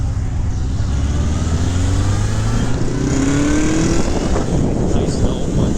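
A 1982 Honda CB750K motorcycle runs through its stock exhaust, a loud, close, continuous engine drone that rises in pitch as it revs, with a voice talking faintly underneath.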